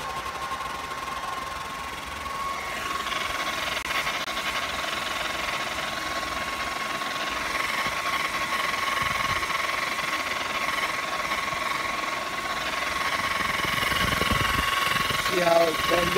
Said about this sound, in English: Let me get it hot a little bit because this is just the air blower.